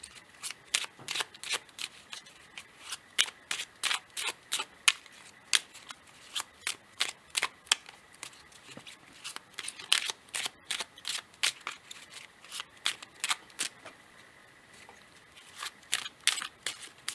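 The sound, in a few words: shuffling oracle cards, power animal oracle deck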